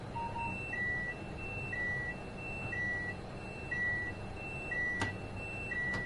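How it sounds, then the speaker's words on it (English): A repeating two-tone electronic warning beep in the Train Sim World 5 train simulator game, evenly spaced pulses about once a second over a low steady rumble, with one sharp click near the end and no talking. "why are you beeping at me?"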